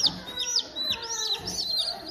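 Four small chicks, yellow and black ones, cheeping in a steady run of thin, high rising peeps, close by and soft, with no one talking over them.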